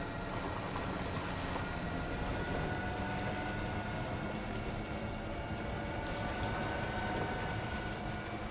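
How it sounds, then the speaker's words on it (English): Monorail in Death Stranding 2 running steadily: a continuous, even mechanical rumble and hum with no breaks, holding at moderate loudness throughout. "Monorail."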